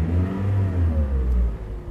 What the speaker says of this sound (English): This engine sounds great when revved.